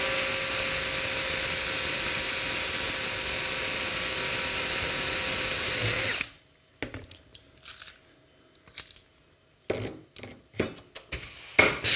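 Power drill boring holes in a launcher front assembly, one loud, steady, high-pitched whine for about six seconds that stops abruptly, followed by scattered clicks and clattering handling noises.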